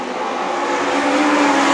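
Legend race cars racing around a circuit at a night heat, a dense continuous roar of engines that swells slightly louder as the pack passes, with no voices heard.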